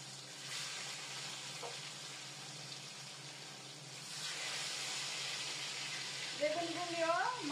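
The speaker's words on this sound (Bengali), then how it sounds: "এখন বেগুনগুলি দিয়ে দিচ্ছি গরম তেলের মধ্যে।" Eggplant pieces hiss in hot oil, and the sizzle grows louder midway; a voice speaks briefly near the end.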